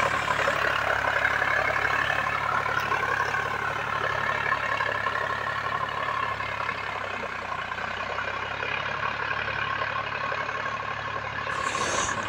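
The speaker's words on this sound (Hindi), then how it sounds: "यहाँ पे ट्रैक्टर बहुत बढ़िया चल रहा है मस्त तरीके से।" A Sonalika Sikander 4WD 50 RX tractor runs in a field with a steady, continuous engine drone and rumble at close range, holding the same level throughout with no talk over it.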